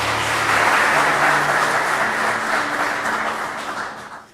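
Audience applause at a Turkish martyrs' remembrance ceremony, a dense sustained wash of clapping from a crowd that gradually fades out.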